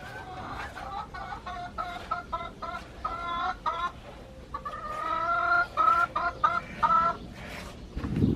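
Backyard hens in a front-yard garden cluck in quick, close bursts, a choppy run of repeated clucks with short pauses between them, ending in a brief rustle.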